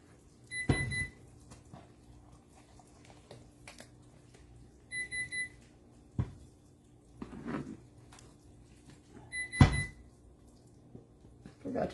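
While peanut butter fudge is being made, a kitchen timer sounds short bursts of high electronic beeps, repeated at intervals, with softer kitchen clatter and brief talk between them.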